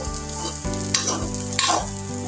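Leftover rice frying until crispy for Filipino sinangag, a close sizzle with a few scraping stirs in the pan over a constant background hum.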